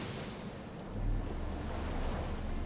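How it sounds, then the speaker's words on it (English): Water in the Outer Wilds video game washing and surging steadily like surf, with a deeper splash swelling in partway through and lingering, no voices. "Splash."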